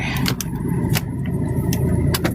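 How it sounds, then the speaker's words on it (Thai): A car engine idling close by, a steady low rumble broken by a few sharp clicks and light metallic jingles like keys, with no clear shutdown within the short stretch. "ดับเครื่องหน่อย"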